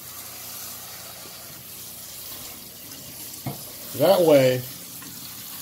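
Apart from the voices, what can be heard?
cold water running over vegetables in a strainer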